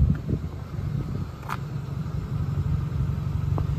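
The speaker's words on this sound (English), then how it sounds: "You can have a quick listen to the exhaust." A warmed-up Renaultsport Twingo RS133 facelift with a cat-back exhaust system idles steadily, a low, even rumbling burble close by with no speech.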